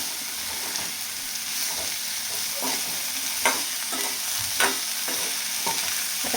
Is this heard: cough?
no